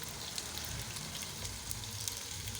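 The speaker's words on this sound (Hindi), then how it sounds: "अब मैं इसमें बैंगन डाल के बैंगन को भी फ्राई कर लूँगी।" Eggplant pieces frying in hot oil in a pan for aloo baingan sabzi, a steady, soft crackling sizzle with scattered pops, continuous and fairly quiet with no voices.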